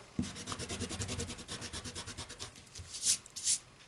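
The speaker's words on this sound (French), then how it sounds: "je vais vite gommer pour enlever l'excédent de crayon" An eraser rubs quickly back and forth over pencil on paper, a soft rhythmic scrubbing of rapid strokes, close and quiet, ending in two brief louder swipes.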